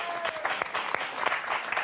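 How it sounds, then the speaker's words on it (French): Studio audience on a French TV fashion segment clapping, with brisk, uneven claps that stay moderately close and modest in volume. "On applaudit Aurore, vous allez voir."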